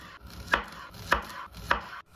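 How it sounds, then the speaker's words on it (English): A knife chops zucchini, potatoes and grape tomatoes on a cutting board with three evenly spaced, crisp cuts, close and fairly quiet, with no talking. "First, I wash and chop the vegetables."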